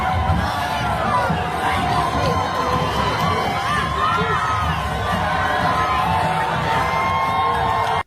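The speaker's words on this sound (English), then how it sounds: "Everybody cheering like, ooh" A street crowd cheers and shouts without a break, loud and dense, with whoops and children's cries rising over the general din of voices.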